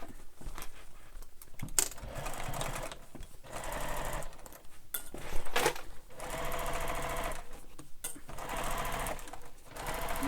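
A sewing machine stitches the side seam of a large fabric beach bag, rapid mechanical chattering in several bursts separated by brief stops, close and fairly loud with no speech.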